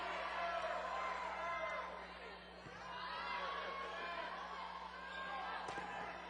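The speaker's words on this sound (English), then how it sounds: "there's their cheering section" Crowd chatter and cheering from a section of fans at a girls volleyball championship match, Venice vs. San Pedro, in a gym, a steady murmur of voices under continuous commentator talk with occasional ball thumps.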